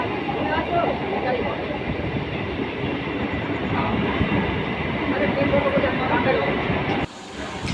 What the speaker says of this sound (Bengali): স্টেশনে কিন্তু ট্রেন ঢুকে পড়েছে